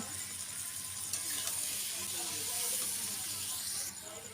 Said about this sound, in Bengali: টমেটো কুচি দিয়ে দেবো, দিয়ে সব একসাথে ভালোভাবে ভেজে নেব